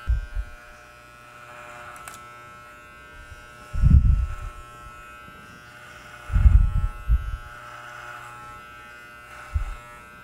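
A Leonardo electric hair clipper buzzes with a steady motor hum while cutting hair, punctuated by three louder low bursts as the blade passes through the hair, close and alone without talk.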